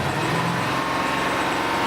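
A car engine held steady at 2,500 to 3,000 RPM during a battery and charging test, a constant mid-pitched hum with a faint whine and light mechanical rattle, fairly close and uninterrupted.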